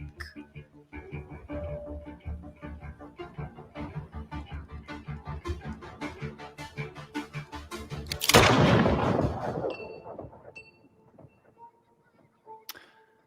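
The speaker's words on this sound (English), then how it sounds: "the infamous scene where Batman is shot in the head by Harley Quinn" Gunshot in a Suicide Squad video game cutscene as Harley Quinn shoots Batman, a single sharp loud blast cutting through tense rhythmic music and dialogue, then a fading echo with sparse sounds.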